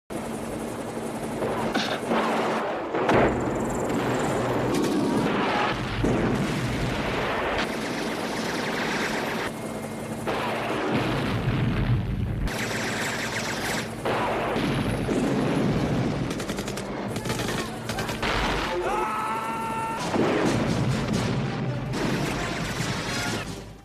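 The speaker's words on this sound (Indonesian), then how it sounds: "Rambo terus memborbardir mereka seakan-akan amunisi di heli itu tak pernah habis" Rambo's helicopter gunfire and explosions pound an enemy camp in the film: a steady rotor roar carries repeated loud bursts of shooting and heavy booms throughout, close and dense.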